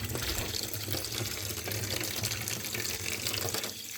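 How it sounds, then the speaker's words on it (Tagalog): Vinegar poured over fish to soak it, a steady continuous rush of liquid like a running tap, fairly loud and unbroken, easing slightly at the very end. "Ibabad ko po siya sa sa suka para po mawala ang dugo na yan."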